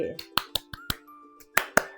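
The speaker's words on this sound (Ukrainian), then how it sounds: "Оплески! Це оплески" Sharp hand claps punctuate a children's finger game, about seven crisp hits at uneven spacing over sung tones.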